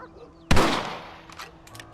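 A single sharp rifle shot in the video game Red Dead Redemption, loud and close with a short decaying echo, followed by faint background sounds.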